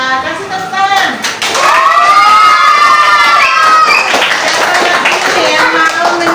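Schoolchildren clap and shout cheerfully in a classroom after a Quran recitation lesson, loud and close, with excited young voices rising over quick, scattered clapping that swells after a quieter start.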